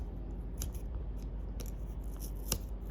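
Close snipping and crunching as a tool cuts through part of an old TV speaker, with a couple of sharper snips near the end over a low steady hum.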